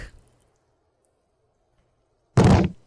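Heavy door in Disco Elysium kicked hard, a single loud thudding impact near the end after a long near-silent pause.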